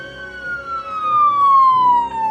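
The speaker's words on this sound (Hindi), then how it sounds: "अभी दंदनाती हुई पुलिस वैन आकर रुकी।" A police van siren in a crime story wails with a steady tone that glides slowly downward, loud and close over a low rumbling engine, with no talk.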